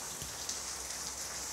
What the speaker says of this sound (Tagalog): Ngayon, lakas ng ulan.